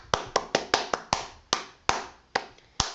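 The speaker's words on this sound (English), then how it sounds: "Can we just give a round of applause?" Sparse, uneven claps or taps, about ten sharp strikes spaced irregularly over a few seconds, close and fairly loud with no talking, more like one or two people clapping than a full crowd.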